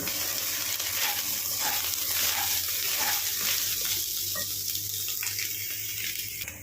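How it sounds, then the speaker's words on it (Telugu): A steady sizzling hiss of soya chunks frying in a pan for a coconut carrot curry, with faint stirring scrapes, continuing evenly throughout. "ఇప్పుడు కొంచెం ఫ్రై అవ్వాలి"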